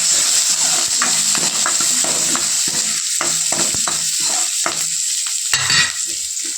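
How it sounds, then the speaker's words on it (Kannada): Onion, garlic and ginger fry in oil in a pan for mutton sambar, a constant close sizzle broken by repeated scraping and knocking strokes of a spatula stirring the pan in an uneven rhythm. "ಈಗ ಬಾಣಲೆ ಇಟ್ಟು ಬಾಣಲೆಗೆ ಸ್ವಲ್ಪ ಎಣ್ಣೆ ಮತ್ತು ಈರುಳ್ಳಿ ಮತ್ತು ಬೆಳ್ಳುಳ್ಳಿ, ಶುಂಠಿ ಎಲ್ಲವನ್ನು ಹಾಕ್ಕೊಂಡು ಎಣ್ಣೆಯಲ್ಲಿ ಫ್ರೈ ಮಾಡ್ಕೊತಾ ಇದ್ದೀನಿ"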